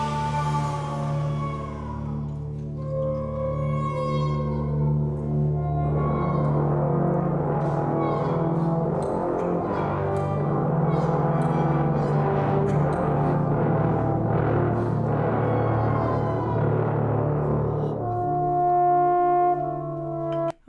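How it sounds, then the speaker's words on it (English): A low brass ensemble of trombones sustains very low pedal tones in a dense, continuous chord that swells and shifts for about twenty seconds, loud and close, with a brief thinning before the end. "Okay, so that was a lot of pedal tones."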